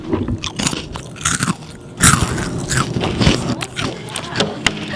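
Crunching as teeth bite down on a Lego brick, a series of sharp, uneven cracks and scrapes close up, with one louder crunch near the middle.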